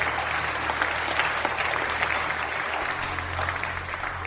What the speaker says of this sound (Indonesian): Mari berikan tepuk tangan meriah untuk Wakil Presiden Direktur Grup Jiang